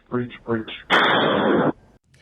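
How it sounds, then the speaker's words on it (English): Rapid gunfire during the Las Vegas country concert mass shooting, fired from the 32nd floor of the Mandalay Bay Hotel: a sustained, dense burst of shots lasting under a second, loud and distant-sounding, preceded by two short voiced sounds. "the gunman, 64-year-old Stephen Paddock, sprayed bullets from the 32nd floor of the Mandalay Bay Hotel"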